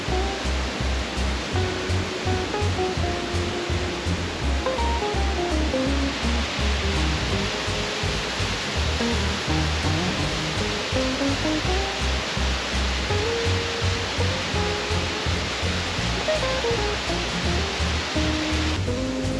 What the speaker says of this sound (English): we're treated to this spectacular waterfall